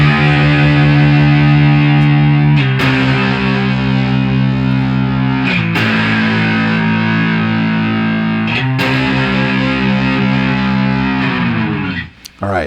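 Electric guitar played through an OCD distortion pedal on the middle pickup, with sustained distorted barre chords struck every few seconds and ringing loud and continuous, ending in a brief scrape and cutoff.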